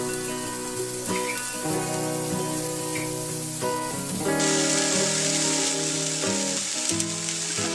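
A fresh batch of evening snacks frying in oil in a pan, giving a steady crackling sizzle that grows louder and brighter partway through, with background music playing underneath.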